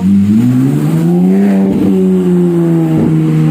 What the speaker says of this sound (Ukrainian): От машина так машина без глушника поїхала.